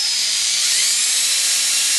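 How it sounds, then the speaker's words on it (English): A drill bores through the top layer of a homebuilt Affordaplane aircraft stabilizer, giving a steady, loud, high-pitched whine with hiss that holds unbroken for the whole short stretch, with no voices. "Mark it, punch it, and carefully drill through the top"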